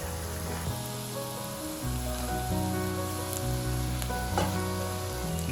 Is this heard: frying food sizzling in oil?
yes